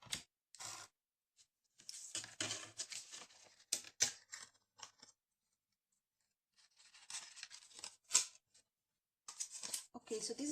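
Scissors snip through paper in a series of close, crisp bursts separated by silent gaps while cutting a pocket for a grungy red junk journal folio.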